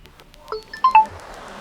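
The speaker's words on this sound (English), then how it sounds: "just by press down volume button we can also mute our device ringtone" Short electronic tones from a Realme Narzo 50A Prime phone as its volume button is pressed: a few quick beeps bunched together, close and fairly quiet, with no other sound.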